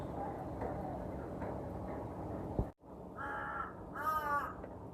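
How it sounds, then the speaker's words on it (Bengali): A lone crow calls from very close by, with a steady hiss of background noise, a brief dropout, then two loud cawing bursts in quick succession. "কাকটা একা একা অনেকক্ষণ মনের আনন্দে ডাকাডাকি এবং নাচানাচি করে অবশেষে উড়ে চলে গেল"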